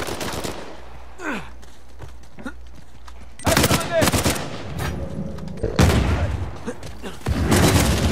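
Rapid gunfire bursts from a pellet-spraying gun in an Uncharted 4 multiplayer match, loud, close cracks in several clusters with silent gaps between them, with game sound effects around and no talk over them.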